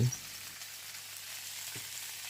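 Vegetables and liver stir-frying in a pan, with broom-flower greens in the mix, give a steady close sizzle throughout, interrupted by a few soft clanks of stirring.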